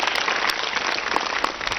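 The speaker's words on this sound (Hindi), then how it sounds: "बेटी के लिए एक बार बहुत तालियां बजाओ।" Children at a student values camp at Acharyakulam, Haridwar, give a girl a round of applause, a thick, continuous burst of clapping that stays even throughout.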